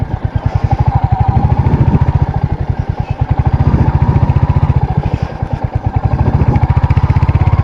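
A Royal Enfield Hunter 350 motorcycle on a test ride gives a loud, close, steady thumping exhaust beat with rapid even pulses and a brief dip in revs partway through. No voices are heard.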